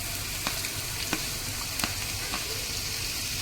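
Chopped garlic, ginger and green chilli hitting hot oil for Schezwan chutney, a loud continuous sizzle with a few sharp crackles and spatters spaced through it.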